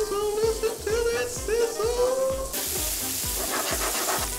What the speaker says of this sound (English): Bacon, bacon, bacon, bacon. Oh, look at that sizzle.